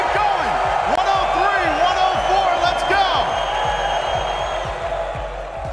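Loud arena crowd at a Rocket League championship event, a steady roar of cheering and whoops with repeated thuds and bangs running underneath throughout.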